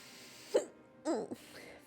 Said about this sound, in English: Oh no, I have the hiccups.